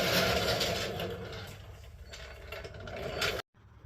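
A ratchet loosens 15mm shock bolts and nuts on a 2017 Polaris RZR during rear coil-over shock replacement, a close, rapid clicking and grinding of the mechanism that stops abruptly near the end.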